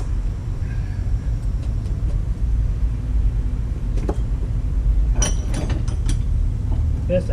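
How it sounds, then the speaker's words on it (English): A 2005 Dana 60 cast-iron axle is rotated during a teardown. Low mechanical rumbling runs throughout, with metallic ratcheting clicks and clanks clustered toward the end. "Rotate the axle."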